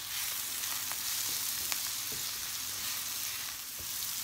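Chopped green pepper frying with a pinch of salt in a pan, stirred steadily: a continuous close hiss of sizzling oil with a few soft scrapes of the spoon, no talking.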